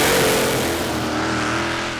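A tractor-pulling machine powered by a Keith Black 518 engine roars loud and continuous at a Danish championship pull, a dense full-throttle howl that holds steady and fades only slightly.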